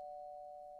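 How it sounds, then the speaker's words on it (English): A doorbell gives a steady, sustained electronic tone held at even loudness through most of the moment, with a brief higher chime at the end, heard alone in a quiet room. "I hear doorbell."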